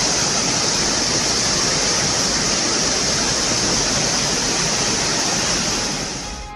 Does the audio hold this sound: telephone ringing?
no